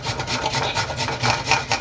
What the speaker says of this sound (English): And same as with the garlic, we're just going to grate.